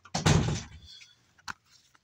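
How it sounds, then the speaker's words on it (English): A household door shuts with a loud rushing thud of air and impact, followed by quieter shuffling and a sharp latch click about a second later, nearby indoors with no talking. "Sorry, you just heard the door shut."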